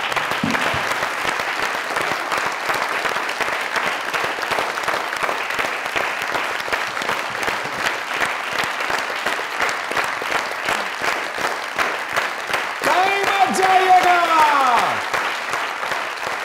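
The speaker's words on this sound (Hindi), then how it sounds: "आबिद अली साहब के लिए एक स्टैंडिंग ओवेशन, एक दफा जोरदार" A late-night comedy show's studio audience gives a standing ovation, with dense, steady applause that carries the whole stretch. A brief burst of cheering swells near the end.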